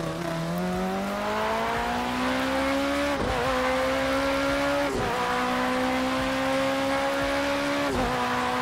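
A 2016 Ligier JS P2 Nissan prototype in the Project Cars 2 racing game, its engine droning steadily and loudly throughout as the car brakes and shifts, with pitch dropping at each downshift and no talk.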